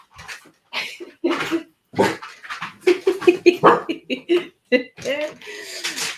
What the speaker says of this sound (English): And the dog's gonna come on.